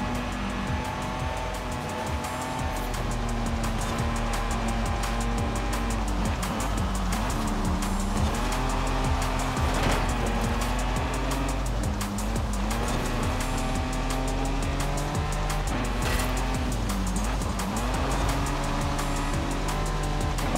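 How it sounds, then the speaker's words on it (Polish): A car in Forza Horizon 5 drifts through corners during a festival race, its engine droning continuously with rising and falling revs and tire squeal, loud and steady throughout with no talking. "Ale można sobie fajnie tutaj poślizgami powchodzić"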